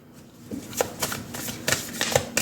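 Tarot cards are shuffled by hand in a series of quick riffling, slapping bursts, close and crisp, with no voice over them.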